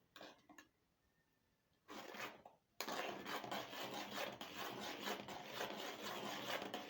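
A thick transparent bar soap mixture is stirred in a pot, a continuous close scraping and rubbing churn that starts after a brief pause and keeps going steadily to the end.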